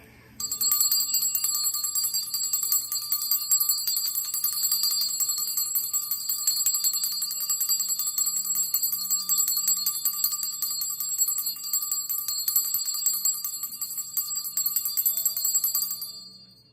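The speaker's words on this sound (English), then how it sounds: "let's bring the ancestors in with the bell" A ritual bell rung in a spiritual space, a steady rapid ringing with bright sustained metallic overtones that carries loud and continuous for about fifteen seconds, then stops and fades out, with no voices over it.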